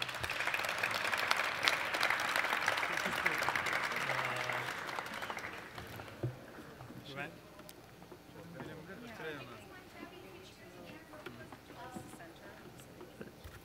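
Loud applause at a welcome reception in the Andrew W. Mellon Auditorium fills the first six seconds, then fades into faint clatter and murmuring voices in the room.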